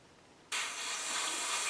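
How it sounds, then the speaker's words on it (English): Airbrush paint spraying onto a stencil laid over a lipless crankbait fishing lure, a steady close hiss that starts abruptly after a moment of quiet and continues evenly to the end. "Shooting paint on the stencil"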